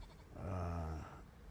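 A sheep bleats once from a pen of ewes with new lambs beside a shepherd's house, a single wavering call lasting under a second, heard faintly at a distance and with no voices.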